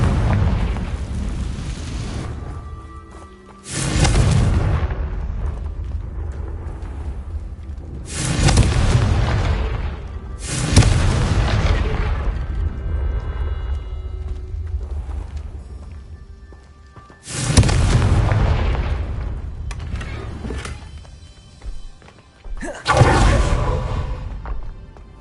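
Confringo spell blasts in Hogwarts Legacy: five or six heavy explosive booms at irregular intervals, each a sudden loud burst that rumbles away into a long decaying tail.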